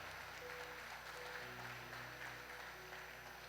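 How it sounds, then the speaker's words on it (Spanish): A church congregation applauds during a sermon, a steady, faint wash of clapping heard from a distance that holds evenly throughout. "Dele un buen aplauso al Señor."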